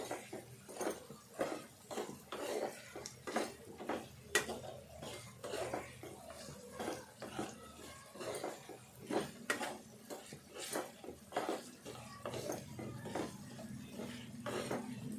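Potato pieces fry with chicken curry in a pan and are stirred with a metal spoon, giving repeated scraping clinks and knocks over a soft sizzle, close and fairly quiet, with no talk.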